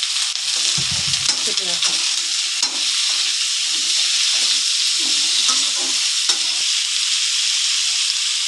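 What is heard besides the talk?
potatoes frying in oil with onions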